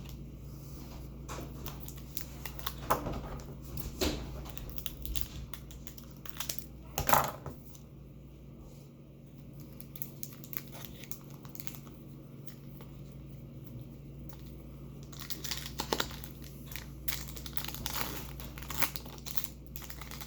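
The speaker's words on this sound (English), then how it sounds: "This pack did not want to open. This is the one that has the Bedard Hunt hiding in it" A sealed Tim Hortons Upper Deck 2023-24 hockey card pack is worked open up close, with soft crinkles, tearing foil and scattered small ticks, one louder rustle partway through, otherwise faint.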